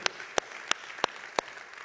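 Five sharp, evenly spaced claps ring out at a steady beat during a church service, faint and sparse rather than a full burst of applause.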